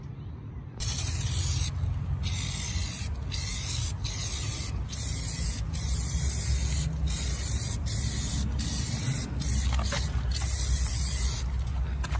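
Repeated hissing bursts of Armor All tire foam aerosol sprayed onto car tires, each a second or so long with brief pauses, over a low background hum; fairly close.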